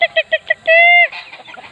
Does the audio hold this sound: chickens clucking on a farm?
yes